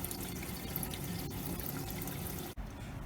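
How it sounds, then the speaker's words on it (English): Water pours steadily from the fill port of a commercial oven's fat separator, a constant rushing splash with one brief dip near the end. "adjustments whilst the water is coming out of the fill port here"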